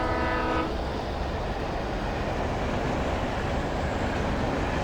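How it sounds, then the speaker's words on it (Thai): A train rushes past in the video game Alan Wake Remastered, a loud continuous roar of rumbling wagons with a brief horn tone at the start, steady and close throughout. "รถไฟฟ้ารถไฟ"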